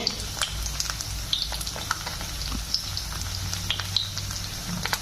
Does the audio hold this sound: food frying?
yes